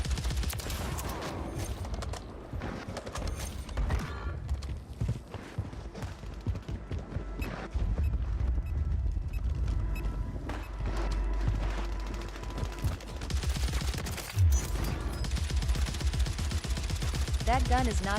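Video game gunfire in a battle royale match, bursts of automatic shots and rapid fusillades repeating loudly throughout, with a player talking over the shooting.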